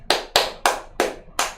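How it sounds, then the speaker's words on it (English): Five evenly spaced, crisp hand claps, sparse and deliberate like polite golf applause, close and alone with no talk. "Golf clap."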